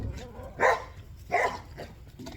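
A dog barks twice, about a second apart, with quieter yips and rustling between the barks, in a backyard garden with chickens.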